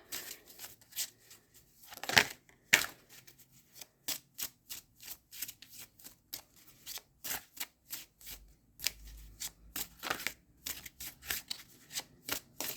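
Tarot cards being shuffled by hand at close range: a long run of crisp, rapid riffling bursts in an irregular rhythm, with a louder flurry early on and no talking.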